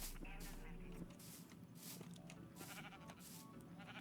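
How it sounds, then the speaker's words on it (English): Sheep in Minecraft Bedrock give several short bleats over a busy game soundscape with other clicks and effects, a person talking intermittently underneath. "come here, sheep. I could use you."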